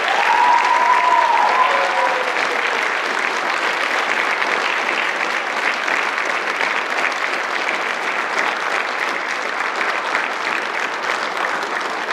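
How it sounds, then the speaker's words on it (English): Sustained applause from an audience at a high school National Honor Society induction ceremony, loud and steady throughout with no speech. "Please join me in applauding all of our new NHS members."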